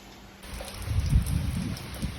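Heavy rain pouring in a village setting, a dense steady hiss with low rumbling patter that swells after a quiet start and stays continuous to the end.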